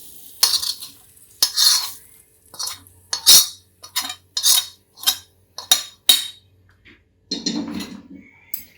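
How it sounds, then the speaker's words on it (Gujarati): Spiced tempering with vegetables being stirred into a pot of sooji moong dal khichdi, a run of sharp metal spoon clinks and scrapes against the vessel in an irregular rhythm, close and fairly loud, ending with a softer stirring rustle. "વઘારને આપણે ખીચડીમાં એડ કરી દઈશું"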